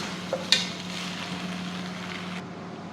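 Beef and rice for tehari being stirred in a pot, with a few soft scrapes and clinks early on over a steady low hum of cooking.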